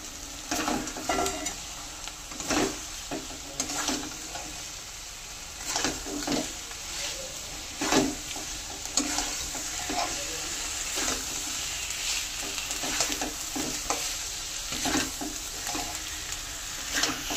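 Fried potatoes stirred in a pan of cooked-down masala, a soft steady sizzle with repeated scraping strokes of the spoon at an even pace.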